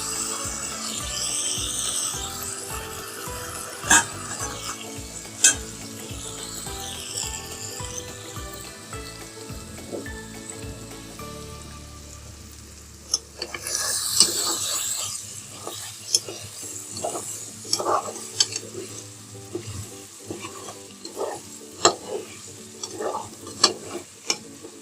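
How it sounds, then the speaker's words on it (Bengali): Chicken sautéed with spices in a pan at home for a wedding-style chicken roast, with steady stirring scrapes and a soft sizzle and sharper utensil knocks in the second half, a tonal background layer in the first half. "একটু কষানো হলে প্রায় 1 মিনিটের মতন কষাবো এই চিকেনের সাথে"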